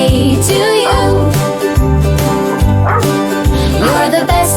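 Loud dog woofs and yips set into a birthday song for a pup, repeated barks over steady music with a strong beat.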